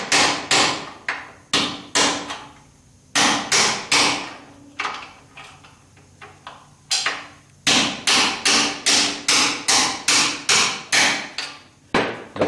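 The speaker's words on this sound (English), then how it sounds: "get that chisel in there to knock them in the other direction" A hammer drives a chisel against the trailing arm bushings of a 1976 Corvette, a series of loud, sharp metallic strikes in fast bursts of several blows each, with short pauses between bursts.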